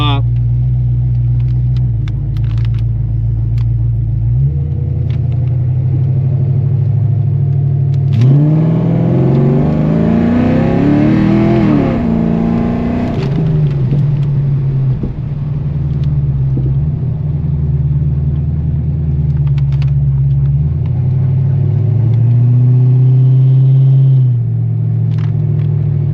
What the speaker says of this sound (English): Listen to how nice that almighty B-cam sounds in this thing.